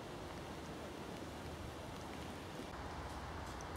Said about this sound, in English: Still raining, about 4:30 now.